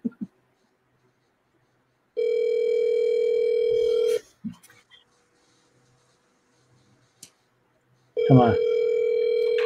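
A telephone ringing tone sounds in two long steady bursts separated by a pause, with a brief murmured voice and faint clicks between them.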